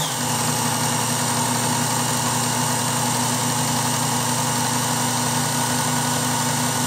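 A Work Sharp Ken Onion Edition belt sharpener running with a medium-grit belt, grinding a knife blade at a 17-degree angle: a steady, loud, unbroken motor hum and belt whir with no talking.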